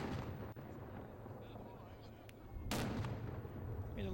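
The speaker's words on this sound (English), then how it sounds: "they mark important moments by shooting from their old historic arms" Historic Trombunas guards fire their old guns at the Saint Blaise festivity in Dubrovnik, letting off a single loud, booming blast partway through with a rumbling tail over outdoor crowd ambience.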